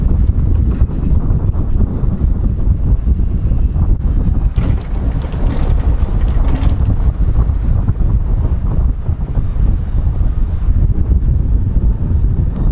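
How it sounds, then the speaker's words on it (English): Wind blows hard across the microphone high on an amusement park skyride, a constant loud rumbling roar with shifting gusts and no voices. "It's probably really windy, but here you go."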